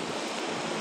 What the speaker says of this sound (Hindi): ये पानी बह रहा है